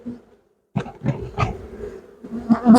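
A honeybee colony hums during a hive inspection at a Ukrainian hive, a low, steady buzz that swells in uneven pulses, close and fairly loud.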